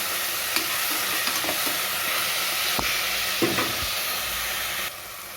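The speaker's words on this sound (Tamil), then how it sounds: "தக்காளி வதங்குறதுக்கு கொஞ்சம் உப்பு போட்டுக்கணும் நல்லா வதக்கி வச்சுக்கணும்" Tomatoes sautéing with salt in a pan for chicken biryani give a steady close sizzle, with short spatula scrapes and stirring knocks breaking through it now and then, and no talking.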